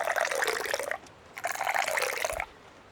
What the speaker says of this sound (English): I think I'll have to pour a glass of that for myself as well.